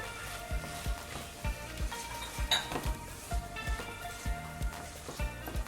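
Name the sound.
mixing ingredients together in a pot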